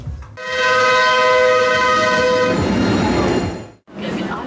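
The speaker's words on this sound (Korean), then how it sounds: "다행히 긴 기다림 없이 막바로 도착한 트램을 탈 수 있었는데요." A tram pulls into a stop in Israel with a long sustained horn or whistle tone over rumbling wheels, then the tone cuts off and the rolling noise fades before a short burst of sound after a brief gap.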